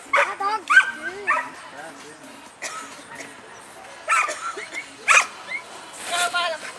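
Dog barking and yipping during an agility demonstration at an indoor hunting and fishing show, several sharp barks spread through the clip amid crowd chatter and a handler's voice.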